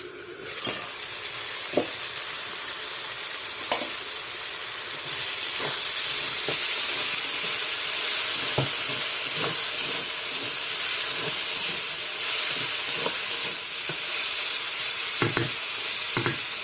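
A dish cooks under a lid in a covered pan, giving a steady sizzling hiss that rises after a few seconds and is broken by scattered small pops and clicks, with no voices.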